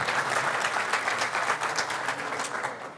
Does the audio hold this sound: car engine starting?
no